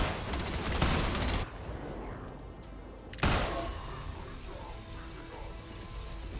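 Gunfire aimed at a robot in an apocalyptic survival video game, a dense loud burst of shots, a pause, then another sharp blast fading into rumbling noise.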